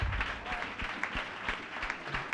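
Congregation at a thanksgiving church service applauding to acclaim the Lord, a steady crowd of clapping hands close by and lively, with no talking.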